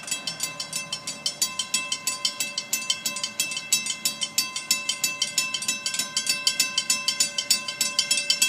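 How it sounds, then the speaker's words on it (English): FEC freight train 210 passing through fog, a steady, rhythmic clatter of wheels over rail joints, repeating evenly throughout, fairly close and loud, with no talk. "FEC Train 210. I haven't seen this train in a while."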